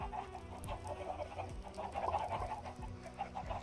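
Chickens clucking in modded Minecraft, a string of short, quiet game-style clucks repeating at a steady pace over faint background sounds.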